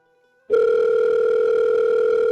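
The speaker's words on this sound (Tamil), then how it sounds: "சோஃபிக்காவது கால் பண்ணலாமா? வேற ஆப்ஷன் இல்லை, பண்ணிதான் ஆகணும்" A phone call's ringing tone starts abruptly after a brief near-silence and holds as a steady, loud electronic tone for the rest of the moment, with no voices.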